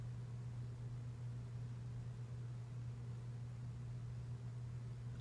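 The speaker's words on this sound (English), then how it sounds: "I can hear the hum of my fan" A steady, even electric fan hum with a low droning tone and a soft hiss, continuous and unchanging throughout, no voices.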